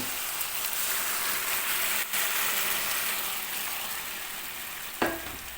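Boiled vegetables go into shallow hot oil with browned onion for a kochu mukhi dalna, giving a steady close sizzle and frying hiss, broken by a couple of brief clanks from a spoon against the pan.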